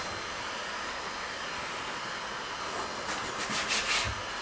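A heat gun blows a steady, fairly quiet airy hiss while warming a sticker on a plastic kayak, with a few louder bursts of rushing air toward the end.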